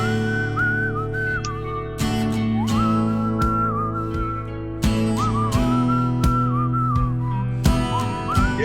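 Melodic whistling carries the lead line over a country rap track, with steady beat and bass underneath; the whistled phrases rise and fall in short runs, clear and prominent throughout.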